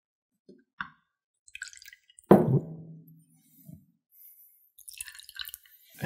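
Sweet vermouth is poured into a glass for a Rob Roy cocktail, giving a short, close splash and trickle amid small drips and glassy clinks in an otherwise quiet room.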